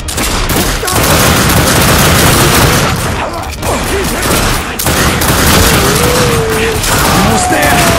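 Dense gunfire in the video game The Darkness II: loud, sustained volleys of shots and booms fill the scene with brief lulls, while a faint game voice surfaces near the end.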